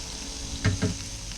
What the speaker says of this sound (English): terrific sizzle as soon as the chicken hits the grill.